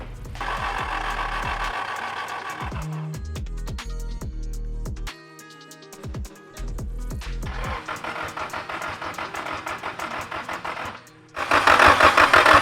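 A Nissan SR20 engine in a 240SX cranks over in loud repeated bursts, the starter whirring in uneven pulses with brief pauses between attempts, then a final harsher, denser burst near the end.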